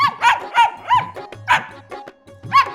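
A cartoon dog barks in a Marathi children's rhyme, with about five bright, rhythmic barks spaced through the melody and a steady musical backing beneath them.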